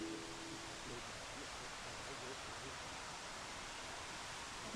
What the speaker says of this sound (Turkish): aktığı yerlerde de küçük küçük şelalecikler oluşturmuş durumda